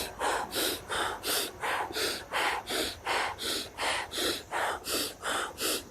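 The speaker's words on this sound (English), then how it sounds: "you're breathing out like this. You're going, then in through the nose" Rapid, forceful breathing exercise through the nose, about thirteen sharp rhythmic breaths in a steady fast cycle, loud and close with no talking.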